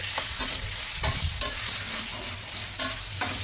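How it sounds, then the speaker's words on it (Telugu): Chicken coated with salt, chili, masala, ginger and turmeric sizzles and fries in hot oil, a loud steady crackle close up, broken by repeated scrapes and clinks of a spoon stirring the pan. "అవి ఆయిల్లో మంచిగా ఫ్రై అయ్యేలాగా కోసేపు అలా వేపుకోవాలి"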